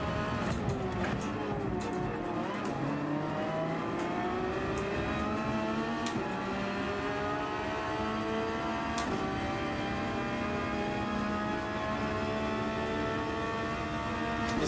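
Several racing cars in a Gran Turismo-style Gr.3 race at Michelin Road Atlanta, heading into a chicane together, with engines droning and rising and falling in pitch throughout, dense, steady and fairly close.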